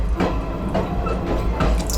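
Water running from a push-up tap in an Indian train washroom, a steady splashing stream into the basin with faint drips over the low rumble of the moving train.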